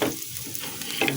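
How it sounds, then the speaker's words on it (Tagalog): Chopped garlic hits hot oil in a frying pan and sets off a sudden bright sizzle, with a short loud burst of crackling near the end of the moment. "Lagyan na natin yung ating bawang."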